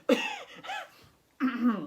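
A voice imitates a cough, a few throaty coughing bursts close up, with a short pause before the last one.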